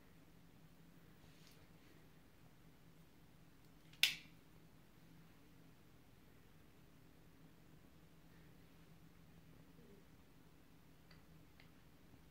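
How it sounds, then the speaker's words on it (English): In near silence, a single sharp crack rings out once as a hot sauce bottle's cap seal snaps open close by, followed by faint tiny clicks. "let's crack open this bottle."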